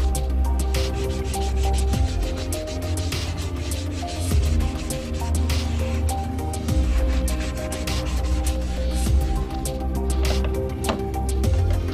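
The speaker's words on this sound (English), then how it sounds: "sand each coat of primer with 400 grit dry." Dry sanding a primer coat with 400 grit sandpaper, heard as steady, loud, continuous rubbing and scraping close up, with no voices.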